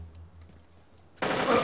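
Gunfire erupts in the survival video game DayZ Standalone, a sudden loud burst of shots cutting in after a quiet stretch and continuing as a dense, harsh rattle to the end.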